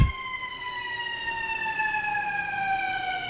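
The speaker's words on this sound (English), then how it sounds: "you've got sirens and that going past you" Emergency vehicle sirens sound continuously as they pass during a live outdoor radio broadcast in Kenosha, their steady wailing tones gliding slowly downward in pitch, fairly loud over a low background rumble with no talk.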